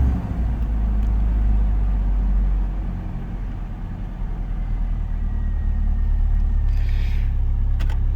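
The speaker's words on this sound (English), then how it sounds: "Not even going to give it any gas. Hope it'll start." A 1980s-era Jeep MJ Comanche pickup engine, unused for a couple of days, runs at a steady idle, a loud close low rumble that dips slightly then evens out, with a faint click near the end.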